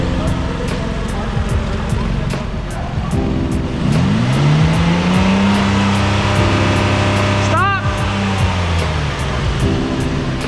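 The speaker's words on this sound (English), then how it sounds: "Tell them put it in park and rev it." Car in park being revved with an exhaust leak at the flex pipe, the engine note rising and falling through a long rev in a workshop, loud and close, with people talking around it.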